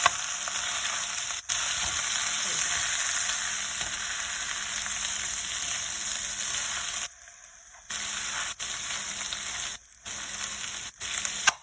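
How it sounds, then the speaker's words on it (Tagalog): Corned beef frying in a hot pan for a corned beef and potato dish, a dense, steady close sizzle with occasional short breaks from brief cuts, no talking. "Sunod na natin na ilagay ang corned beef."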